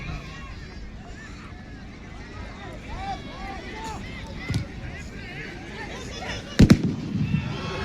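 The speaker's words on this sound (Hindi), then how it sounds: "गोल पोस्ट के पास जो आतिशबाजी कर रहे हैं, पटाखे फोड़ रहे हैं" Fireworks and firecrackers pop and crackle near the goal post at a rural stadium final football match, under a steady crowd hubbub, with a sharp loud burst late on.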